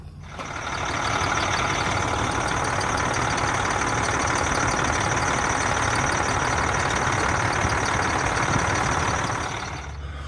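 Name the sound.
engine starting and running after belt tensioner fix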